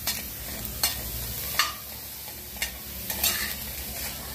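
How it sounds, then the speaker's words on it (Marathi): Onion sautéing in a pan, stirred with a spatula that scrapes the metal in sharp strokes every second or so over a steady, soft sizzle, heard close with no talking. "आपण थोडंसं कांदा परतून घेऊया।"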